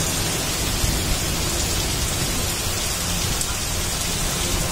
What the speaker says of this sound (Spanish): Truenos espectaculares, muchísimo agua.